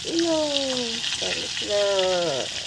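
Rui fish pieces fry in oil and are flipped in the pan, keeping up a continuous sizzling hiss beneath a person talking close by.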